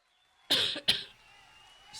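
Two quick, sharp coughs close to the mic, the second slightly weaker, followed by a quiet pause.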